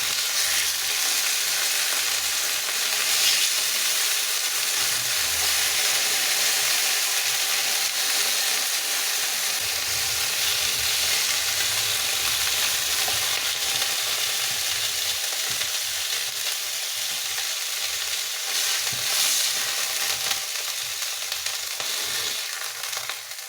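Onions frying in butter in a pan, a steady loud sizzle and crackle throughout with occasional stirring scrapes and no voices.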